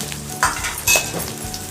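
Green chili and vegetables fry in a pan, a bright steady sizzle with a couple of quick spatula scrapes, close and loud over a short stretch.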